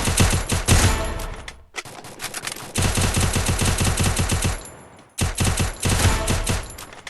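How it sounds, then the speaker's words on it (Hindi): Rapid automatic gunfire in the Garena Free Fire video game, with dense bursts of close, loud shots broken by two short pauses. "अगले सीन में हमें यहाँ पर गन साउंड आ रहे थे"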